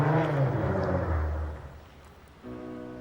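A car engine rumbles and revs loudly at close range, fading into a lower whir, then a steady harmonic engine tone returns near the end; no talking.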